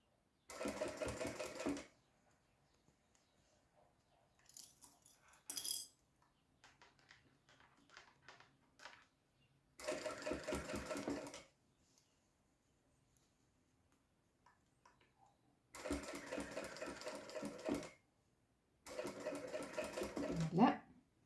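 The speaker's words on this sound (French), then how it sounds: "Un point d'arrêt au début et à la fin et on pique à 1 cm." A sewing machine stitches gathered fabric at a 1 cm seam for a fabric door stop, running in several short rattling bursts separated by pauses. A person talks quietly between the runs.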